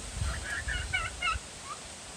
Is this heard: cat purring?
no